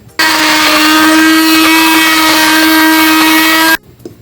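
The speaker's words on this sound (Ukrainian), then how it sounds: "краще його перебити блендером в пюрешечку" A blender whirs loudly and steadily at a high pitch for a few seconds, pureeing cooked pumpkin, then stops abruptly.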